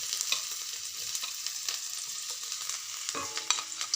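Chopped garlic hits hot oil in a pan and fries with a bright, steady sizzle, broken by scraping stirs and a louder crackle near the end, no voices.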